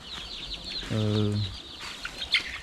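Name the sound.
chickens clucking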